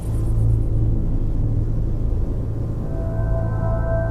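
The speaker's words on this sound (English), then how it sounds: "the tropical summer is still warm and brings massive thunderstorms" Deep, continuous thunder rumbling through a massive tropical summer thunderstorm, loud and sustained throughout, with a faint tonal hum entering near the end.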